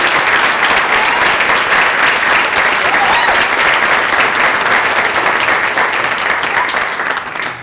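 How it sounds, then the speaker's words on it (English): At a seniors talent show in Lexington, the audience gives loud, sustained applause, a thick and even roar of clapping hands that carries on steadily and only starts to thin out at the very end. "Let's give them all another big round of applause"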